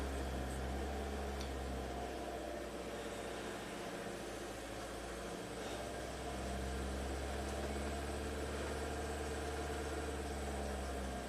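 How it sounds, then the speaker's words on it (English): A Ford EcoBoost engine with a variable valve timing fault runs at a steady, faint hum, a low idle drone with slight rises as the revs are lifted a little. "I'm just going to raise the RPMs up a little bit."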